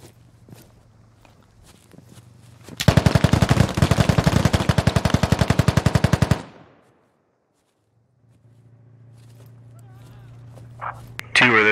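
Gunfire in the video game Squad erupts as a loud, rapid machine-gun burst lasting several seconds, preceded and followed by quieter ambient hum and movement, with a player speaking near the end.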